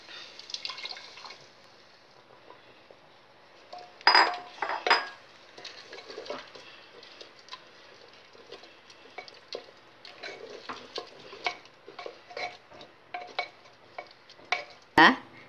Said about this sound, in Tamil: கிண்டிட்டு அதுக்கப்புறம் சக்கரைப்பாகு விடுவோம். சக்கரைப்பாகு விட்டுருங்க.